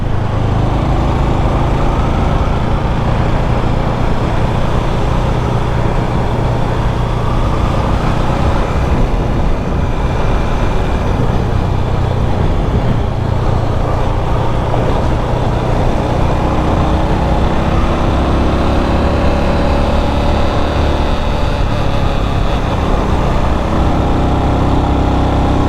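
Bajaj Avenger motorcycle engine running on a hill road near Morni Hills, a steady low rumbling drone blended with wind and road noise that continues throughout without pause.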